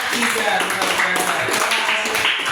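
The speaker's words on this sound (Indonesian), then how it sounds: "Berikan tepuk tangan untuk kelompok 3." A classroom group claps for the third discussion group, a short burst of loose, uneven handclaps close by, with chatter and voices running through it.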